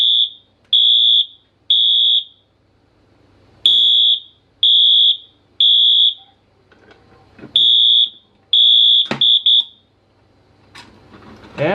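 Fire alarm on a battery-powered wiring test bench beeping in a steady repeating pattern of loud piercing tones, with handling clicks and rustles toward the end.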